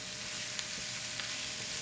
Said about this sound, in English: So you just keep stirring it until however crispy you want it